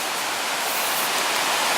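Creek water flowing in the Smoky Mountains along the Middle Prong Trail, a steady broad rushing wash with no break, loud and close.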